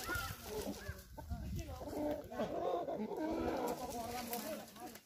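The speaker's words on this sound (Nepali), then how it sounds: "पितृ पूजामा भोग दिने कुखुराहरू, भाले पोथी," Chickens, roosters and hens kept as offerings for a Gurung ancestor worship ritual in Nepal cluck and call near at hand, mixed with human voices around them.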